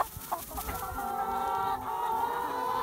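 Pastured poultry clucking steadily at close range while dust bathing in the sun on open pasture, a continuous murmur of soft clucks with one brief louder call near the start.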